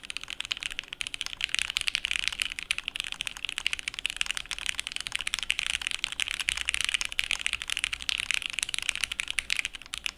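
Typing on a Yeti mechanical keyboard with a thick CNC-machined polycarbonate plastic case and gasket mount: a steady, fast run of soft, clacky keystrokes, close and uninterrupted for the whole stretch.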